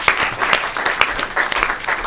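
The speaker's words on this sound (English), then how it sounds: "there is a particular round of applause is due to the core team, Karen and Vagisha," A room full of people breaks into a round of applause at a policy symposium session honoring the organizing team, with steady, dense clapping filling the whole stretch without pause.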